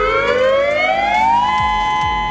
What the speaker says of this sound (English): Hawai'i has created the largest outdoor warning siren system in the United States.